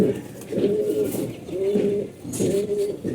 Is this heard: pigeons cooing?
yes